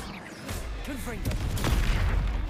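A Confringo explosion spell goes off in Hogwarts Legacy with a booming blast over busy battle noise, rumbling heavier toward the end, while a voice speaks briefly.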